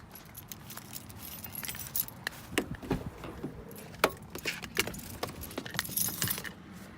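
A bunch of car keys for a Jeep jangles and clinks near at hand in repeated bursts over about seven seconds, with no talking.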